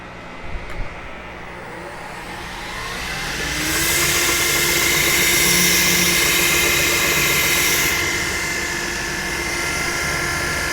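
A belt grinder fitted with a flex belt whines steadily, then swells into a loud, rasping hiss for several seconds as it sands the bevel of a cedar axe handle, easing back afterward; a few small knocks come at the start.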